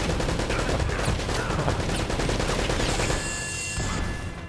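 Gunfire in Uncharted: Drake's Fortune, a rapid rattle of repeated shots at close range, loud and dense for several seconds before easing off into a fainter ringing tail.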